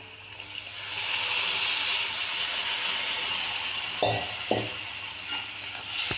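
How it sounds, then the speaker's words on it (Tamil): Okra tamarind gravy bubbles and sizzles in a pan with a steady hiss, swelling then easing, broken near the end by a couple of short clinks of a utensil against the pan. "குழம்பு நல்லா கொதிச்சிட்ருக்கு"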